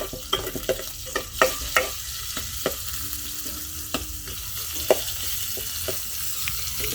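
Onions fry in a pan in a village kitchen, a soft steady sizzle broken by sharp clicks and scrapes of a spoon stirring at irregular intervals, close by with no voices.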